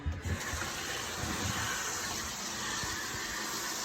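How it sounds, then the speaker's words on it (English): Running water gushes steadily, close and continuous, as raw chicken is washed with vinegar at a sink, with a few soft splashes near the start and no voices. "I pour some vinegar and I wash through it"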